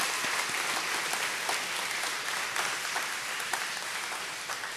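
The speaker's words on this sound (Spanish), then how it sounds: "A ellos también un aplauso, a ellos también, otra vez, muy bien, gracias." Steady, dense applause from a church congregation at a trilingual Easter Vigil Mass on Holy Saturday night, filling the space evenly from start to finish with no voices rising above it.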